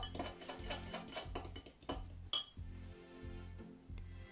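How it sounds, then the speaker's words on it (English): A mixture with nutritional yeast and barbecue seasoning being whisked vigorously in a bowl, fast rhythmic clinking and tapping of the whisk against the bowl, with a low repeating hum underneath. "Whisk it really vigorously to blend everything together."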